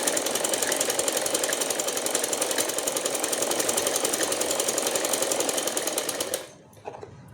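Sewing machine stitching along the edges of cloth for a goddess idol's dress, running in a fast steady rattle for about six seconds, then stopping, with a few faint handling clicks afterward.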